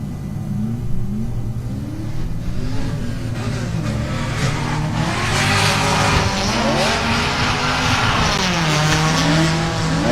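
Drift cars launching in tandem at the Battle of Little Rock drift competition, with loud engines revving and rising through gears and tires squealing continuously as they pull away.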